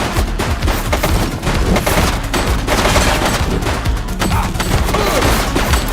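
A suspect firing a gun in The Precinct, dense rapid gunfire and overlapping shots continuing loudly and without a break.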